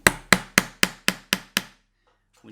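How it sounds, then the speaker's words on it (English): A hammer drives nails into wood while a wooden piggy bank is assembled: seven sharp, evenly spaced strikes close to the microphone, each ringing out briefly, then near silence. "Sometimes it helps if you choke up on the hammer just a little bit"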